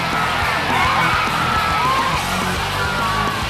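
A capacity crowd at a Digicel Cup Grand Final rugby league match between the Goroka Lahanis and Port Moresby Vipers in Port Moresby, a dense, steady roar of cheering, whoops and yells filling the stadium without pause.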